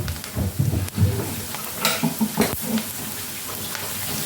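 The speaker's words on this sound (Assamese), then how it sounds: "আৰু বাদামখিনি এতিয়া ভাজি ল'ম ধুনীয়াকৈ, আকৌ ভজা যায়।" Peanuts fry in a pan for a quick breakfast of puha, giving a close crackling sizzle with scattered pops and stirring scrapes, uneven and fairly loud, with no talking.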